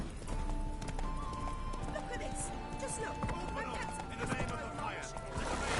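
Hooves of a horse in The Witcher clip-clop in a continuous trotting rhythm, close and steady, with a faint whinny and people talking over the hoofbeats.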